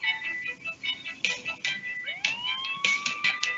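An ambulance siren wails en route to a stroke patient, its tone sliding and repeating across the whole stretch, fairly close and loud, with no one talking.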